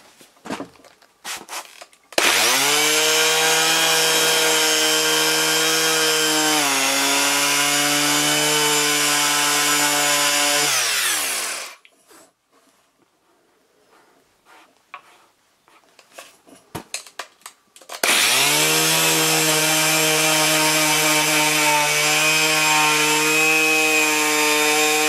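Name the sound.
filing down a Toyota Avensis sun visor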